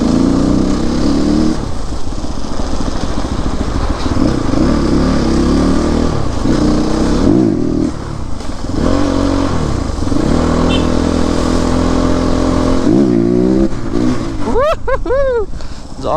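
Riding a new CrossX300 motorbike: the engine drones and climbs through several rev swells, with a brief high rising whine in the last seconds.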